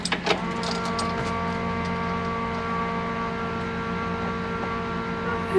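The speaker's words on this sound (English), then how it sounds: "We have the electric in-tank gear rotor style pump on this car." An electric in-tank gear rotor fuel pump in a car gives a steady electric whine that hums continuously with a faint mechanical whir, preceded by a few brief clicks at the start.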